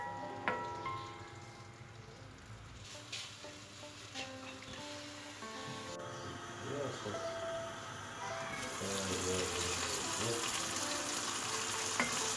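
Chicken pieces frying in a pan for a spicy chicken and cheese box, a soft, low sizzle with scattered stirring clinks that grows fuller and louder in the last few seconds.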